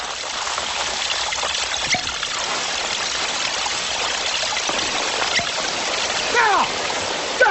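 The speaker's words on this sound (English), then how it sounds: "remove the tape and watch the streams that shoot out" Water jets spray from holes punched down the side of a container in a pressure experiment, a steady broad trickling rush with faint dripping throughout.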